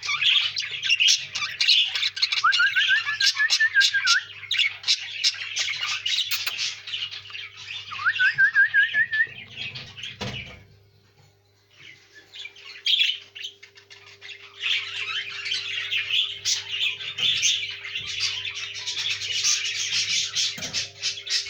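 Pet birds chirp and squawk steadily inside their cage, a dense busy chatter with rising whistled calls, a brief lull midway, then the calling resumes close and loud.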